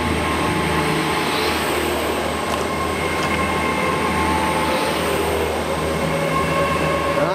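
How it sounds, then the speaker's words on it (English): A passenger train passes close by at a station in Cardiff on a rugby international day, a steady loud rumble of wheels and carriages with faint metallic squeal, no talk over it. "Look at the train coming this way, empty."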